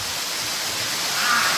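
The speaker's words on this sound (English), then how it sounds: "you're going to hear a really loud sound of the waterfall" Loud, steady rushing water from a waterfall in a gorge roars without a break, a constant broadband wash with no voices.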